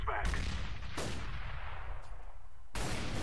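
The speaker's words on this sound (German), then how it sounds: "Flashbang!" A flashbang grenade goes off in Counter-Strike on de_train, with several sharp, loud bangs and crackling gunfire-like bursts in quick succession, close and dominant.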